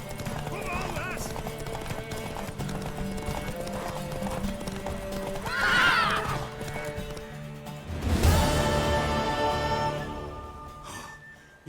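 Horse hooves clip-clopping and a neigh in The Witcher 3, with game music and ambience throughout and a sharp crashing impact near the end, while voices talk over it.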